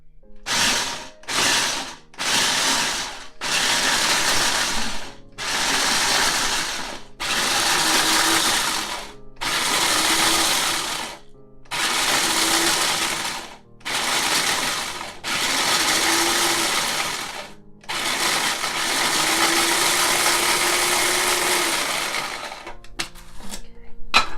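Repeated loud bursts of an electric grinder pulverizing cheap packaged snacks, roughly a dozen short pulses of whirring motor noise separated by brief pauses, with a longer final run and no talking.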